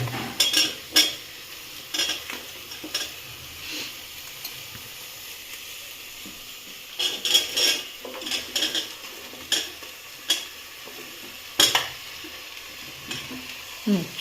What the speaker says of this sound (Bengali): সবজিটা দিয়ে এবার একটু নাড়াও।